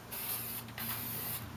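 A spray can coats a wooden Abraham Lincoln portrait with finish in close, loud hissing bursts that pause briefly before resuming.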